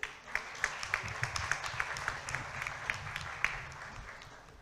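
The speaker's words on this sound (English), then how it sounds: "Let's express our appreciation with a warm round of applause" Polite applause from a conference audience at an annual inaugural session, a steady patter of many hands clapping at moderate distance for several seconds, fairly soft overall.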